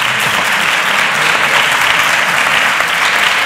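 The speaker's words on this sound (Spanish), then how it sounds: "aplaudir" Steady, dense applause from a large crowd, loud and continuous throughout with no voices standing out.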